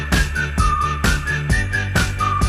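A whistled melody line rides over a full pop-song arrangement, the bright tune repeating in short phrases on top of steady drums and bass throughout.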